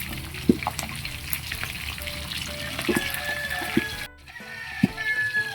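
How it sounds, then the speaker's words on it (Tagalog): A pork chop fries in a pan, a steady close sizzle with occasional pops and crackles, briefly dropping out about two-thirds through before the frying resumes. "piritong pork chop"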